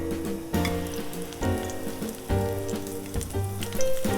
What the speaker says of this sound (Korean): 이렇게 살짝 두르고 아스파라거스 구워볼게